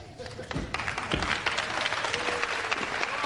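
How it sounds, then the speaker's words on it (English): A crowd packed around a wrestling tournament in Burnley applauds steadily, a dense patter of clapping filling the room at moderate distance. "Already they're starting to applaud a couple of moves in the first round"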